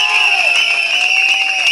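A packed hall crowd cheers and claps in a steady, loud roar, with shrill whistles or high-pitched shouts riding on top for the whole stretch.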